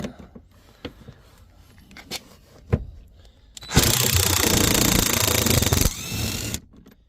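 A power driver runs hard for about three seconds as it backs out a front seat bolt in a Ford Focus MK4. Scattered clicks and taps of tools come before it and a quieter whir follows.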